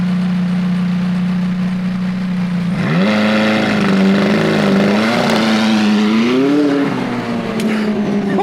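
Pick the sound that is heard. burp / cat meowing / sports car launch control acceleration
sports car launch control acceleration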